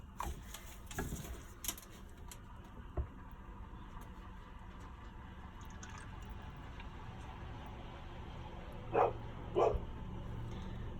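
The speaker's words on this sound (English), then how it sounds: "Someone's just arrived, so the dogs are barking." Two sharp dog barks ring out near the end, somewhat distant, over a steady background hum.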